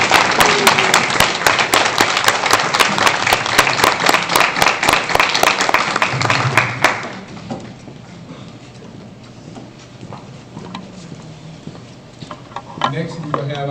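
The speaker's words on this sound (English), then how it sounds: "Board members and crowd, please join me again in a round of applause for our 2026 valedictorian and salutatorian." Loud, dense clapping from a crowd at a county board of education meeting fills a room for about seven seconds, then fades to quiet room murmur with faint voices.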